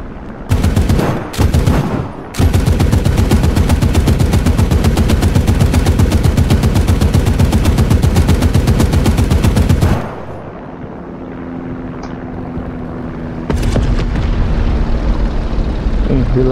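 Heavy .50 caliber machine gun fire in a video game hammers out in long, loud, rapid bursts for about ten seconds, then gives way to a lower mechanical drone and a short final burst.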